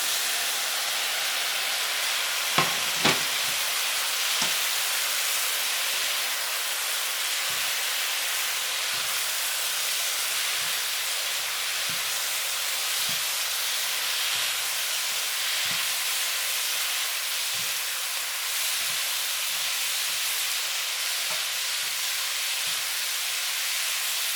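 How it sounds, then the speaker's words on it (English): Steak sizzles in a hot pan for black pepper steak, a steady loud hiss and crackle running throughout, with a few sharp clinks of utensils early on and soft tapping scattered through. "next, we're going to put in the steak"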